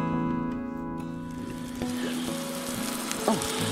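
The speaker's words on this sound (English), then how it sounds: "Got my steak on the grill" Steak sizzling on a campground grill in Six Rivers National Forest, California, a soft steady crackle under faint background music, with a few clinks and scrapes nearby.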